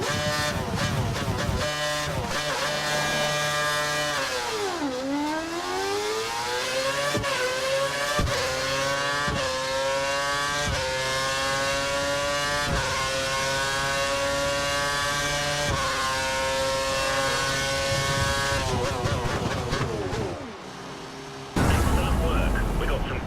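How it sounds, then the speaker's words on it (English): A Formula One car in the F1 2013 video game accelerates down the track, its high engine whine climbing steadily in pitch through repeated gear changes, loud and continuous, before a short rough burst at the end. "Head down the track accelerating past 257 kph"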